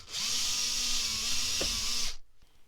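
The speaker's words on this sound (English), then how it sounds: "we use our Dremel to get the burrs off the other side here" A Dremel rotary tool grinds burrs off a metal part for an RC crawler conversion, a high steady whine for about two seconds that then cuts off abruptly, close and loud.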